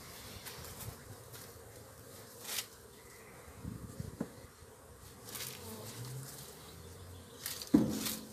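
Honeybees drone steadily in a hive that has just been opened in early-season cold after a candy feed, with a low continuous buzz and a few louder passes and knocks close by.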